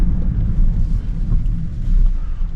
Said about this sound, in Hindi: कुछ ज्यादा ही बारिश हो रही है यार